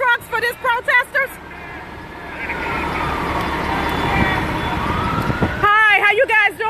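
A fire truck siren wails near a street protest, a long sweeping tone swelling for several seconds over traffic rumble, with people talking just before and after it.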